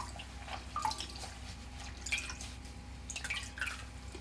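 Water drips from a squeezed, soaked cloth into a pot during madder root dyeing, with scattered small drips and splashes, close and soft over a low steady hum.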